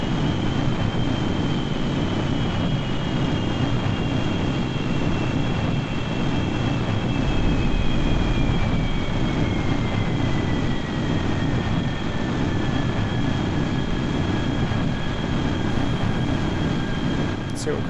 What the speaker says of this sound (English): So if I go afterburner mode